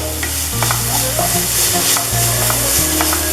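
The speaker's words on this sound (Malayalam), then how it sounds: "അതുവരെ നമുക്കിതിനെ നന്നായിട്ട് ഇളക്കി വാട്ടിയെടുക്കാം." Stirring and sautéing in a pan over a medium flame while preparing pepper chicken, with a steady close sizzle and scraping stirring strokes continuing throughout, no talk.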